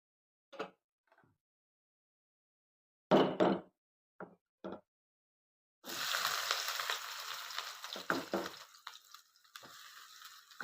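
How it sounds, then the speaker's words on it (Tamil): Onions tipped into hot oil in a kadai for kothu parotta. A few scattered knocks give way to a sudden loud sizzle that carries on, crackling, to the end. "இப்போ அதில் வெங்காயத்தை சேர்த்துடலாம்"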